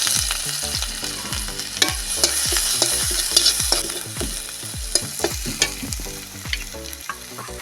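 Ginger sizzling in hot oil in a wok, a steady loud fry with repeated sharp scraping stirs and clinks of a spatula throughout, no voices.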